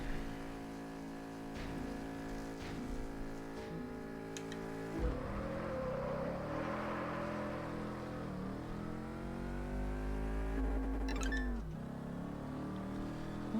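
Car engines race and rev in the Test Drive Unlimited Solar Crown driving game, with rising and falling harmonic engine tones and a steady loud drone throughout, shifting pitch as the car accelerates and changes gear.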